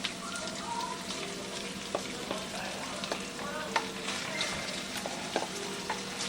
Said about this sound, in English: now we got that saute, we're going to add the cabbage.